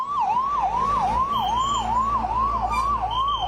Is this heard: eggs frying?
no